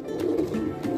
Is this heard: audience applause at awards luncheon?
no